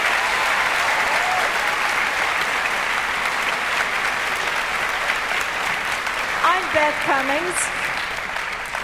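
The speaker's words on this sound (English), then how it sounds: "Give them a nice round of applause." Sustained audience applause at a school district all-county choral program, filling a hall in an even, dense wash of clapping that continues steadily throughout, with a few faint voices and brief whoops near the end.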